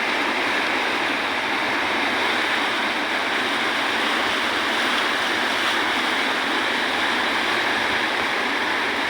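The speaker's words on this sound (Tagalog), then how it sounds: "talagang napakalakas ng ragasan ng tubig dito" Loud, continuous roar of rushing floodwater, a dense unbroken torrent close by with no pauses and no voices.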